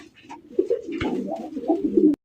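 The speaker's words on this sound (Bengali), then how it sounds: "সবচেয়ে কম দামে লাইট কালার একজোড়া সবজি রেসার কবুতর" Racer pigeons coo up close, a soft, throaty, rolling sound repeating for a couple of seconds before cutting off.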